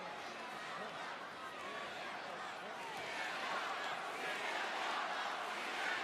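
Wrestling arena crowd at a WWE Elimination Chamber event rallying against champion CM Punk, a steady roar of many voices with chanting and cheering that swells slightly louder toward the end.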